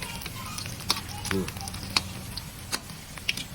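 Oil sizzles and crackles steadily as food deep-fries, with scattered pops and clinks of a utensil, close by.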